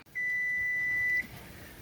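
A kitchen timer after water bath canning of jams sounds one steady, continuous electronic beep for about a second, then stops, leaving quiet room noise.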